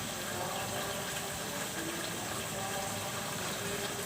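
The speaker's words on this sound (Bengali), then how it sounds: "আমি এখন এখানে ঝোলের পানিটা দিয়ে দিব।" Water poured into a pan of hilsa fish curry cooked with mustard and nut paste, a steady gushing pour heard close and unbroken for a few seconds.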